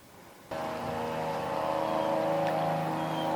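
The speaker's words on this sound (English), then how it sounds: "That's my neighbor tilling up his garden, getting ready to plant." Neighbor's garden tiller starts up and runs with a steady droning engine hum, continuous and moderately distant outdoors, with no voices over it.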